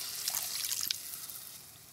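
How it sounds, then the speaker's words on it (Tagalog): A splash of water is poured into a pan of sautéed chicken adobo, giving a steady hissing trickle with a brief bubbling spatter, close and continuous for about two seconds with no voices. "tapos, lalagyan ng kaunting tubig guys"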